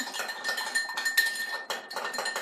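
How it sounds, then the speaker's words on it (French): Spoon clinking and scraping against a bowl while mixing homemade bread dough ingredients with sugar, a steady run of close, bright utensil taps and stirs with no talking. "Et voilà, on mélange le tout."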